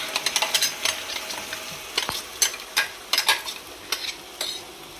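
Onion paste frying in oil for a traditional fish curry, a steady sizzle broken by repeated sharp scraping stirs of a utensil against the pan, close and fairly loud, with no voices.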